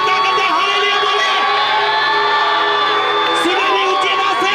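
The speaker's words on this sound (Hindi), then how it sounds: "तालियों के साथ हालेलुया बोलते जाए, ऊंची आवाज से जितनी गले में ताकत है हालेलुया बोले।" Loud, dense crowd noise at an outdoor Christmas procession, with many voices shouting and cheering together in a continuous roar, and a few whoops rising over it.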